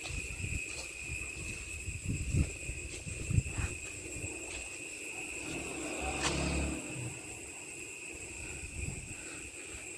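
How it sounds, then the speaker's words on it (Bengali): Crickets chirr in a steady, high, unbroken drone at about 10:30 at night before rain, with faint irregular frog croaks and low rustles underneath, all quiet and distant. "ঝিঝি পোকার শব্দ, ব্যাঙের শব্দ শুনতেছেন।"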